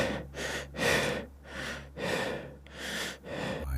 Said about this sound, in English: Breathing became noticeable.